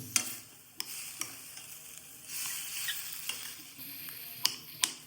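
Tomatoes sizzle in oil in a kadai, a steady frying hiss with occasional sharp clicks of a utensil stirring against the pan, up close.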